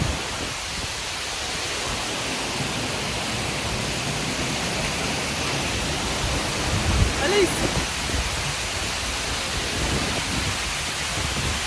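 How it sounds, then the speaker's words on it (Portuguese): Broad, steady roar of a large waterfall pounding down close by, loud and continuous throughout, with a brief spoken exclamation over the rushing water. "você consegue sentir a grandeza daquela cachoeira e como você pode ver aí no vídeo, você sai completamente encharcado porque a água realmente bate"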